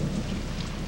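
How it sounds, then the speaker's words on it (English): Torrential rain pours down with rumbling thunder over an outdoor baptism celebration in Kiev, a dense, loud, steady wash of water hitting surfaces with low booming underneath. "The torrential downpour somehow seems appropriate."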